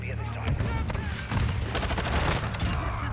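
A Vaznev 9K submachine gun fires in Modern Warfare 2 ranked play, a loud, continuous fast-rate burst of shots close up, backed by low booms and a voice underneath.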